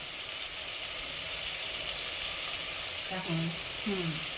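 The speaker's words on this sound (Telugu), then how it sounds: "ఇప్పుడు ఆనియన్స్ అన్నీ ఫ్రై అయిపోయినాయి" Onions frying in oil with garlic, curry leaves and green chillies for a fish curry, a close, steady sizzle hissing throughout, with a couple of short tonal squeaks near the end.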